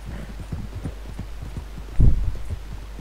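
Horse hooves clip-clop in Red Dead Redemption 2, a steady run of soft, close thuds over a low hum, ending in one louder, heavier burst of hoof impacts.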